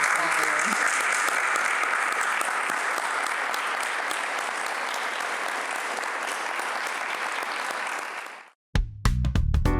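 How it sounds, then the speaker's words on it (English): Steady, dense applause from an audience at the end of an onstage conversation fills most of the stretch, then stops abruptly, followed by a few brief sounds. "Round of applause."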